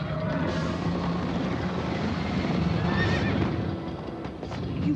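A horse in Minecraft Story Mode whinnying and galloping at speed, a continuous rush of hoofbeats and motion noise with a neigh rising in the middle, loud and close.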